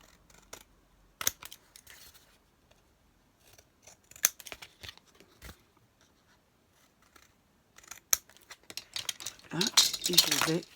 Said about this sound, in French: Là, je vais découper.